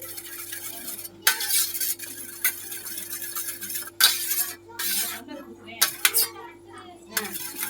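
Something is stirred well in a bowl, like beating omelette eggs for a blooming onion, giving irregular clinks and scrapes in bursts under faint background noise.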